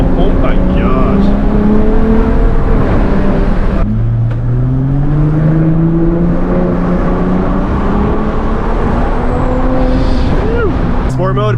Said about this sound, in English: Sport mode puts it in the sport, like steering and sport exhaust note by itself